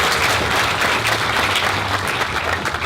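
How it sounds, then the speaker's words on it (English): Steady applause from an audience at an anime convention panel, dense clapping that fills the whole stretch without a break. "Give her a round of applause"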